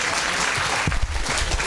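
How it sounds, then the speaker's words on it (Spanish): Applause from the crowd at an outdoor Noche de San Juan stage show in Chiloé, a steady patter of clapping with a few sharper bursts, heard without talk. "Saludemos con un fuerte aplauso a un gran amigo"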